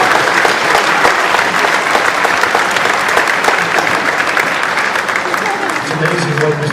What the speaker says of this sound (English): how about a big round of applause for our 7th grade orchestra and Mr. Zabo.